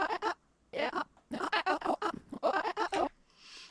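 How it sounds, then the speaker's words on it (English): A man's own vocal noise pitched very high and sped up, a quick chattering string of squeaky, yelping bursts that resembles a small animal whimpering, close and dry. "It was time stretched as well, so this is a lot faster than it was. But it's just me making a vocal noise."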